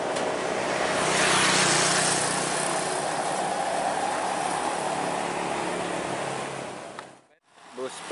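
Bus of the PMS Putra line, on the Brastagi to Pangkalan Kerinci route, rumbles past with a broad steady engine and road roar that swells then cuts off abruptly near the end.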